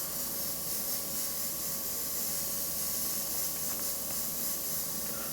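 A steady airbrush hiss of paint spraying from a single-action or double-action airbrush, laying down soft-edged color in continuous even bursts with no voices.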